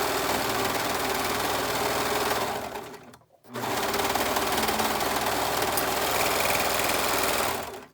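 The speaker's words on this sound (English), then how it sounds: "so that I can continue sewing." A serger sewing machine stitching a baby kimono, a steady close mechanical whir that runs continuously, halts briefly for a moment of quiet, then resumes at the same even pace.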